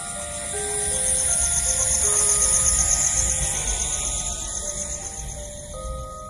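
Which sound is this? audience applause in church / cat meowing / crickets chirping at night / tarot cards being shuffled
crickets chirping at night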